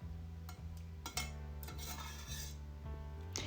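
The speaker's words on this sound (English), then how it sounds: "I scoop the tamale pie filling into a baking dish" Beef tamale pie filling being scooped from a pan into a baking dish, with several clinks and scrapes of a utensil against cookware and soft wet plops, over a low tonal backdrop.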